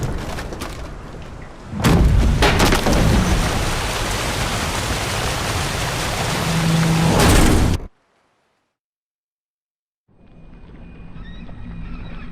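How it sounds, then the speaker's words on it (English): Stormy weather at sea in The Witcher 3 brings heavy rain and wind with deep rumbling thunder as a loud, continuous roar that swells and then cuts to silence, followed by quieter ambience. "Didn't bargain for no storm."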